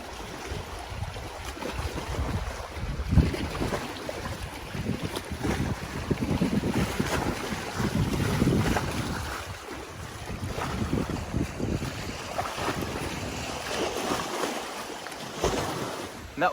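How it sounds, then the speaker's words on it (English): Wind-driven choppy water on West Carey Pond in Maine, a steady wash of lapping waves and gusty wind buffeting the microphone, with no voices. "And that was the nice choppy water of West Carey Pond."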